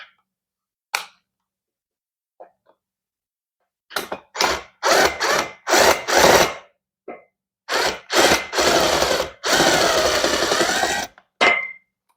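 A power drill drives screws into the metal frame of an upholstered bed, sounding in short, loud, close bursts of whirring that start and stop repeatedly, with one longer run near the end and quiet gaps between.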